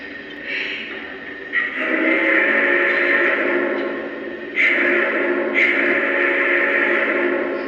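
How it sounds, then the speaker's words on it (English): Big Boy steam whistle from a Lionel model locomotive's sound system: two long sustained chords with a brief break between them, loud and near, heard alone. "Little big boy whistle action."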